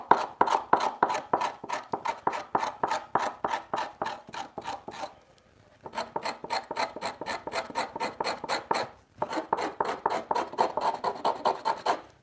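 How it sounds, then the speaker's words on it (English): Hand scraper working the grain off a wooden workpiece in a home workshop, rapid rhythmic rasping strokes in steady bursts with two brief pauses, close and clear, no talk. "Y'all see me scraping from multiple directions. I am not being shy because I'm trying to get the last of this grain off of here."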